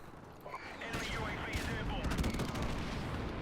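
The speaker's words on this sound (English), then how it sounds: "It's an airstrike." Airstrike explosions in a multiplayer shooter video game, a dense rolling barrage of booms and blasts layered with gunfire, loud and continuous across the moment, with voices faintly mixed in.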